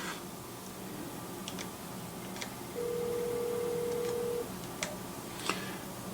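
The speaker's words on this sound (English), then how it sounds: "now when I try to call my colleague here, the phone is actually established on my hard phone" An outgoing call on a desk phone through Webex Calling, heard as a single steady ringback tone lasting under two seconds over faint background noise, with a few soft clicks.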